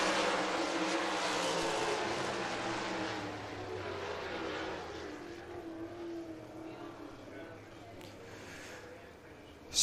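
Race cars roar around a dirt oval at Southern Raceway in Milton, Florida during a heat race, a steady engine drone that slowly fades as the field moves away, with announcer talk over it.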